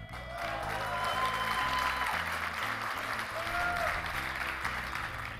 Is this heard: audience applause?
yes